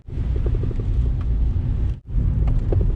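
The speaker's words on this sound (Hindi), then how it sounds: "ये वाली आवाज़ है जो मेरी कार में इंजन माउंट की वजह से आ रही है।" Mahindra KUV100 hatchback with a worn engine mount knocking over bumps, heard as a steady low rumble of road and cabin noise with faint repeated knocks, briefly cutting out near two seconds.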